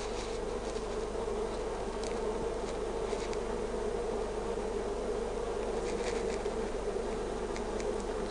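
Honeybees in an open top bar hive give a dense, steady buzz close by, with individual bees flying past now and then, and no voices.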